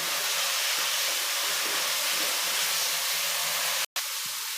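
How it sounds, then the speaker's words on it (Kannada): Ginger garlic paste frying in oil, a loud, steady hiss and sizzle that runs without a break, with one brief dropout near the end before the frying resumes. "ಈ ಥರ ಹಸಿ ವಾಸನೆ ಹೋಗೋ ತನಕ ಫ್ರೈ ಮಾಡ್ಕೋಬೇಕು"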